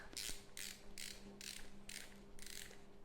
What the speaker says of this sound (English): then you push the button here so it locks, and then turn it clockwise until it feels snug